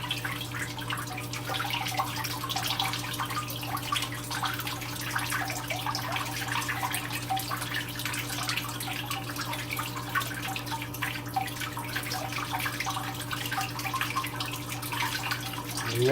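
Steady water flow running through a pond or tank filtering system that collects solids, a continuous close trickling and rushing wash with a low constant pump hum beneath, unchanging throughout with no talk.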